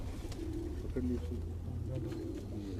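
A pigeon in a fancier's loft gives a low, soft coo against steady background noise, while people speak nearby.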